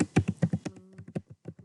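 Keys clatter on a computer keyboard in a quick burst of clear, close taps, then continue in sparser, slightly softer strokes, with no voices.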